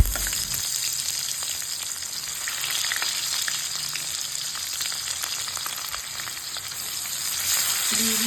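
Dried red chilli and cumin sizzle in hot mustard-oil tempering in a kadai, a dense, steady crackling hiss that stays close and even throughout, with no voices.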